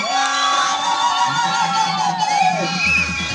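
A crowd at a family parental-visit gathering cheers and shouts loudly, with overlapping high voices whooping and calling out together in a continuous, lively roar.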